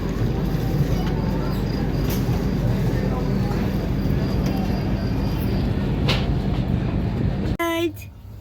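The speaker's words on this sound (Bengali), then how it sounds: "রাত্রি 9:10 ট্রেন ছেড়ে দিয়েছে।" Passenger train running at night after pulling out of a station, a steady loud rolling rumble throughout, cut off abruptly near the end where a brief voice is heard.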